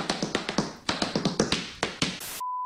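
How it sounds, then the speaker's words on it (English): Rapid tap dancing sound effect, a quick run of crisp, loud taps in uneven bursts, clear with no talk, ending in a steady tone. "Somebody should add tap dancing to this, like the actual sound effect"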